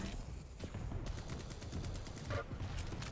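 Rapid bursts of rocket launcher fire and explosions in a 2v2 team deathmatch arena shooter match, a dense, continuous barrage of loud blasts with repeated sharp impacts throughout.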